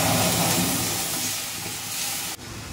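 Hot tempering of curry leaves and mustard seeds is poured into lentil dal with a loud, steady, close hiss that slowly fades, then stops abruptly near the end.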